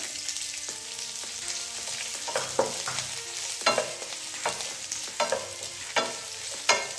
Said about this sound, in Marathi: त्यानंतर मी इथे कांदा ॲड करते।